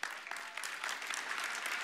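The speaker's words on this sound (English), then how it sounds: "you can clap, it's fine" An audience at the 2024 National Pro-Life Summit applauds, a dense, even patter of many hands clapping that holds at steady volume for the whole stretch, with no talking.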